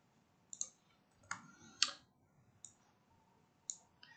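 Sparse, quiet keystrokes on a computer keyboard, a handful of separate clicks spread unevenly with near silence between them.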